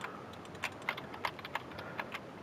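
Faint clicks of a computer keyboard being typed on, a handful of irregular key presses spaced apart, quiet and close.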